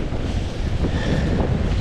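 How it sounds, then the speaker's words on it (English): Strong wind buffets the microphone outdoors, a loud continuous roar with gusty rumble and no pauses. "Oh, feel that wind."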